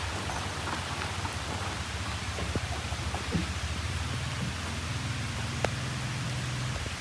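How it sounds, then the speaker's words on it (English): Rain falls steadily outdoors near a workshop, a continuous soft hiss with faint drop taps and a low rumble underneath, even in level throughout with no voices. "It always rains here, I swear."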